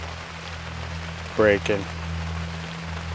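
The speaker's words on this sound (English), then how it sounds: "Now I don't mind hunting in the rain." Steady rain falls in the Alaskan wilderness during a moose hunt, a constant soft patter across the whole stretch, with a voice speaking briefly in the middle.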